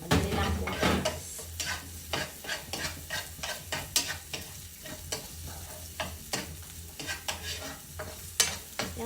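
Onions sizzle in a pan for adobong okra while a utensil stirs them in repeated scraping strokes over a constant frying hiss, close and fairly quiet, with no talking.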